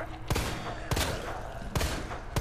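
Video game gunfire: three loud, sharp shots spaced roughly evenly apart, each with a short echoing tail over a steady background rumble.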